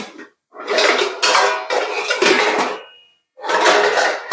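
Plates and dishes clatter loudly in several bursts of clinking and scraping while being set out for a home breakfast of tea and bhakri, with short pauses between bursts and no talking.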